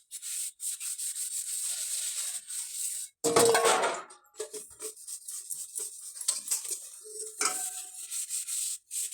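Dishes, pots and utensils are scrubbed and washed in a village kitchen, with rubbing and scraping strokes, occasional clinks of metal, and a louder splash or clatter partway through, close by and with no talk.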